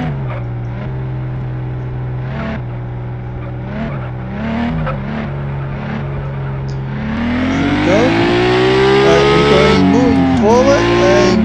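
Engine of a green car driven at full speed through a shopping-mall course in the video game Shopping Mall Car Driving 2. It is a steady, buzzing drone that swells and climbs in pitch as the car accelerates, with speech-like sounds also present.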